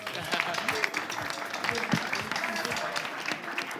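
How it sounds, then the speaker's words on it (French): Applause from an audience at an entertainment show's grand finale, sustained dense clapping throughout, with a voice speaking over it. "Applaudissez-le pour qu'il arrive."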